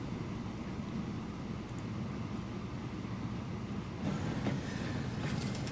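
Freight train carrying refined oil and grain rolling along in the Transport Fever game, a steady low rumble of wheels and cars with faint clickety-clack, continuous and moderately loud, with no talking.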